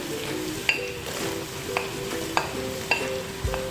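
Tomatoes frying in a pan with ginger and garlic for masala rice, a steady sizzle with periodic clinks of a spoon stirring against the pan.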